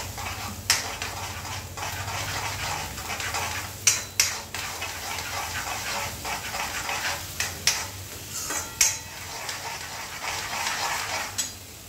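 A spoon stirs spicy dal masala with curd in a pressure cooker over a low flame, scraping and knocking against the metal with sharp clinks over a constant background of gentle sizzling.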